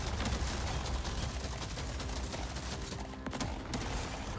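Rapid automatic gunfire from a video game machine gun, a dense continuous burst of shots filling the whole stretch at steady loudness, with no voices.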